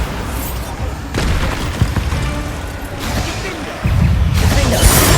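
The Bombarda blasting spell from the Hogwarts Legacy video game sets off several loud booming bursts in quick succession, with crackling debris over a busy game soundtrack.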